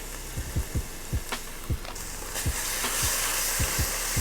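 Spices for butter chicken (ginger, cumin, garam masala, coriander) sizzle in a pan while a utensil knocks and scrapes in repeated strokes, close and moderately loud over a steady hiss.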